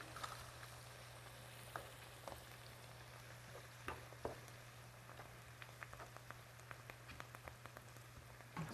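Apple juice and brown sugar are stirred in a pan for pork chops, a quiet sizzle and soft scraping running steadily with small clicks of the spoon, and a low hum underneath.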